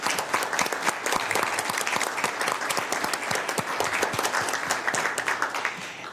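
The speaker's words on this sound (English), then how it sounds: "if we could give her one more hand of applause" Steady applause from a crowd at a Sacramento Air Quality Management District meeting, dense clapping held at an even level for several seconds and easing slightly at the end.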